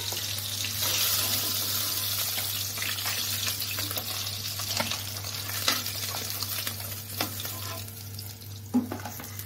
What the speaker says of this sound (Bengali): বাকি মাছগুলো আমি ভেজে নেব।